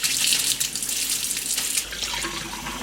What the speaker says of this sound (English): so this is my first pour of the water after the filter is installed